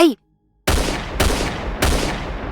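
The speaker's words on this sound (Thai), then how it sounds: "เสียงปืนที่แผดสนั่นสนั่นไร่ หลายนัด" Three loud, sharp gunshots, close and booming, spaced about half a second apart, each trailing off in a reverberant roar, after a brief voice.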